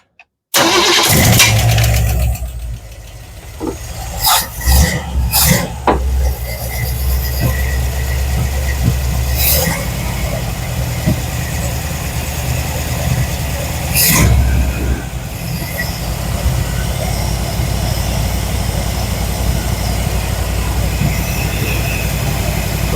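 An engine that has sat unused for years cranks and catches, then settles into a loud, steady, rumbling idle, with a few sharp clanks and bursts early on before it smooths out.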